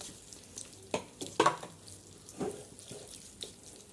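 Water poured into a pot of chicken curry, a few short splashy bursts and trickles at moderate volume, with quiet stirring sounds between them.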